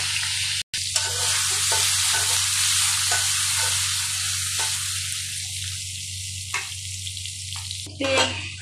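Pangasius fish frying in a pan with added taro root, a steady loud sizzle with intermittent stirring scrapes and a brief dropout near the start, no talking.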